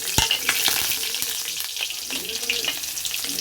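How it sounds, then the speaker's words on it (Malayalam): Chopped onions fry in hot oil with popping mustard seeds in a home kitchen, a steady close sizzle broken by scattered sharp crackles and pops. "കടുക് പൊട്ടുന്നുണ്ട് നമുക്ക് അതിനകത്തേക്ക് രണ്ട് ഉള്ളി അരിഞ്ഞതും കൂടി ഇടാം"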